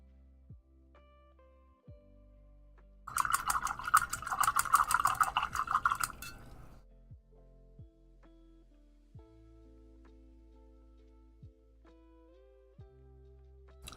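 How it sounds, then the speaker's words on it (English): A small painted miniature figure gets a brief wash in soapy water, a few seconds of close sloshing and swishing that rises out of near silence and fades back into quiet room tone. "Let's see if I can't give this guy just a little soapy bath here real quick."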